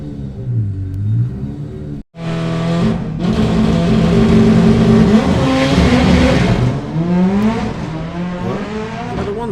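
At a Santa Pod drag racing test day, cars launch and accelerate hard down the strip, with a brief idle, then a sharp cut into loud, rising engine roars from more than one car, heard close.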